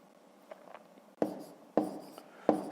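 Numbers written by hand on paper during a fifth-grade subtraction exercise: soft scratchy pen strokes, then three sharper taps of the pen at a steady pace, close and quiet.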